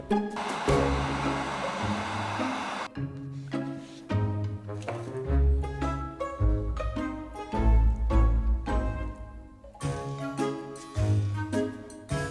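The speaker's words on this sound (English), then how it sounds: "we're going to use our heat gun to heat underneath what would be the roof of his mouth" A heat gun blows hot air under the roof of a plastic pirate skeleton's mouth, a loud steady rushing hiss for about three seconds with music playing throughout.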